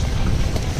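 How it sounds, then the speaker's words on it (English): Steady wind blowing outdoors on a fall fishing trip, a low continuous rumble buffeting the microphone for under a second, with no voices. "Yeah, there's that wind."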